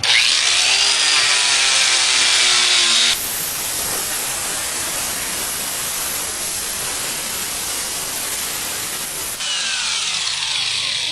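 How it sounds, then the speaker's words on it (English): A grinder with a 36 grit disc sands the rubber sidewall of a tire to make a wide white wall, a loud, close, continuous abrasive whir whose tone shifts partway through and returns near the end. "using our 36 grit grinder, I always like to start at the outside and work towards the middle"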